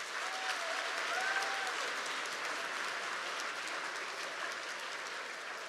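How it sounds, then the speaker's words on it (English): An audience at an awards banquet claps in a steady, even round of applause that stays at one level throughout, with a faint murmur underneath. "let's give her a round of applause"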